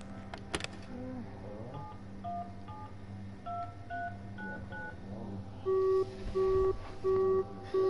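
Telephone keypad dialing tones from a video game sound as a series of short pitched beeps, growing louder and more evenly spaced toward the end, with no speech.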